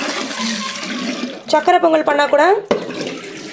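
Water runs while rice is rinsed in a kitchen for chakarai pongal. A soft background hiss gives way to a louder splashing burst of about a second, then cuts off abruptly and leaves a quieter tail.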